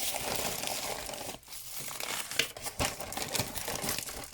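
A plastic bag rustles and crinkles during the unboxing of a Temu haul of diamond painting supplies, continuous close crackling with a couple of brief pauses and some sharper crunches, no talk.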